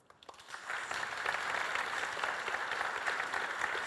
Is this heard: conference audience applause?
yes